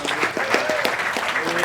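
Audience applause for a guest at an outdoor offroad festival interview stage, a steady wash of clapping from a crowd with a voice faintly present over it.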